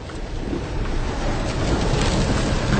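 Wind roaring during an extremely severe storm, a dense, loud rushing broadband blast close to the microphone, swelling slightly over a few seconds with no speech.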